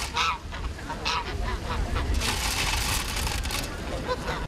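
Geese honk repeatedly in a park, several birds calling in overlapping, loud bursts over a busy, noisy outdoor background.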